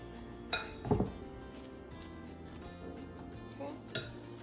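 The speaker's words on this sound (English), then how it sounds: "And we'll mix an egg in there." A utensil mixes an egg into mashed yuca in a bowl, with a few sharp clinks against the bowl and soft scraping stirs in between, close and fairly quiet.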